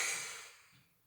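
A single breath blown out hard, a close, airy exhalation that starts strong and fades away over about a second.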